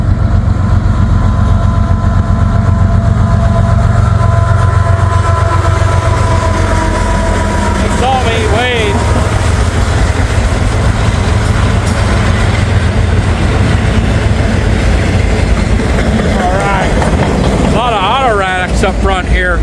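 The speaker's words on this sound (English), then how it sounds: "There's no way M510's pulling with one locomotive." A freight train heading to Detroit rolls past, pulled by locomotives, with a loud steady rumble and rolling clatter close by, a long horn-like tone near the end, and someone talking over it.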